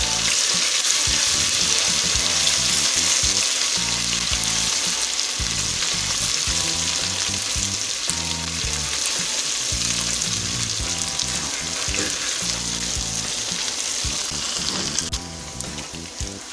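Garlic-ginger paste frying in oil with a constant close sizzle and crackle, occasional stirring sounds, no voices.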